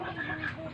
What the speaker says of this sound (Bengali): ফাউমি মোরগ।